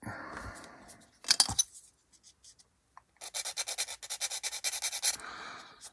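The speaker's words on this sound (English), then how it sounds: "Make sure you're sanding the right parts and not the pins" Rapid rhythmic scraping strokes of sanding on small hard plastic parts of a 1/48 scale B-25J model kit, in bursts with brief pauses, close by and fairly crisp.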